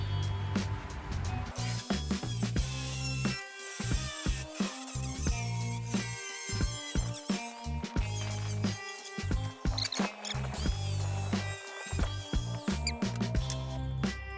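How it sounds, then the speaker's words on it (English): An angle grinder scores a thick aluminum plate while working on a Honda CRX Si drag race car, producing a high whining buzz in repeated bursts with short pauses and level changes, close and fairly loud. "I'm gonna just take the grinder, score it real quick. It's thick aluminum"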